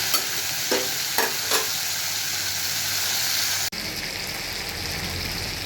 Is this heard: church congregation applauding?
no